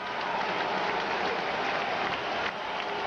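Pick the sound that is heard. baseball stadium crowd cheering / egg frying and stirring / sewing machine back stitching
baseball stadium crowd cheering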